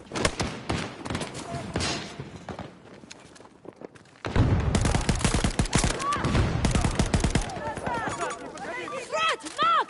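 Automatic sentry gun firing in Battlefield 2042, bursts of rapid gunfire with thuds and footsteps in the game mix. A voice talks over it, and the firing grows denser and louder partway through.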